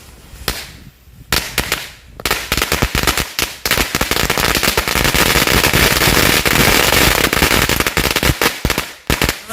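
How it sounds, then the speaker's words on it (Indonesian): Bundles of small matchstick firecrackers set off beside a raw egg burst in a dense, nonstop chain of sharp cracks and pops, loud and close, building into a continuous crackling barrage for several seconds. "Ini dia mercon korek dan telurnya, langsung aja kita nyalakan."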